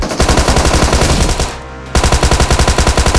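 Rapid automatic gunfire in the mobile battle royale game BGMI, loud and continuous bursts with a brief pause in the middle before the firing resumes.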